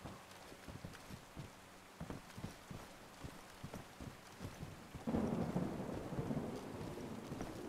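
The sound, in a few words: thunderstorm with rain in video game DayZ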